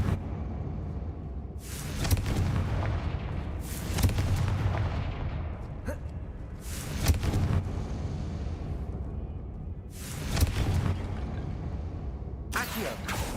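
Confringo fire-blast spell from Hogwarts Legacy, cast again and again: four booming explosive bursts at regular intervals, each trailing off in a long rumbling decay over a steady game background.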